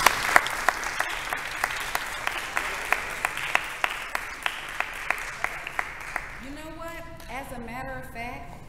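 Audience applause at a motivational talk event, a steady wash of clapping with sharp individual claps standing out, moderately loud and fading out as speech begins near the end.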